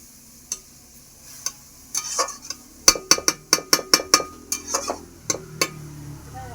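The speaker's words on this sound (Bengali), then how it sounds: "চিংড়ি মাছটা হালকা ভাজা ভাজা হয়ে গেছে, এবার আমি কাঁটা কুলপি আর আলুটা দিয়ে দেব।" Shrimp and cut potatoes frying in a pan are stirred with a metal utensil. A faint sizzle runs under a burst of quick, sharp clinks and scrapes against the pan, close by.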